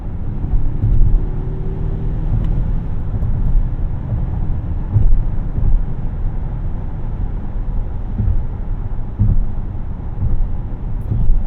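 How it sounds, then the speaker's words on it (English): Interior cabin sound of a 2024 Volvo XC90 T8 plug-in hybrid accelerating on the highway: a steady, fairly loud low rumble of engine, road and wind noise that swells and eases slightly, with no talking. "Even highway acceleration isn't bad at all."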